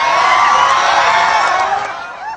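A large crowd claps, cheers and screams in a dense, continuous roar that stays loud throughout and eases off slightly near the end.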